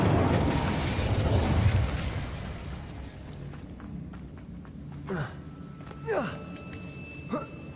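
Incendio fire spell bursting in the Hogwarts Legacy video game, a loud whooshing blast up front that fades into softer game effects, followed by a few short magical chirps and whistles.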